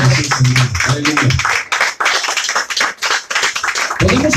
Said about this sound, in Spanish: Dale un aplauso al Señor Jesús, Señor.